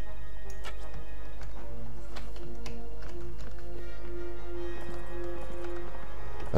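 Horse hooves in the video game Mount and Blade Warband clop in a quick, even rhythm under a constant low hum and game music, with sharp clicks scattered on top.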